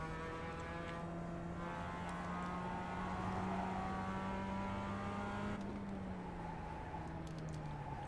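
A simulated race car engine from iRacing drones steadily at high revs, its pitch holding then dipping as the car slows, loud and continuous throughout without any talk.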